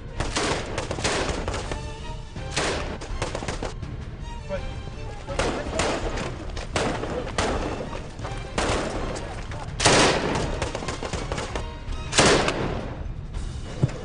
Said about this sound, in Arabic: وأثناء العمل بيفاجئنا إطلاق نار كتير قريب.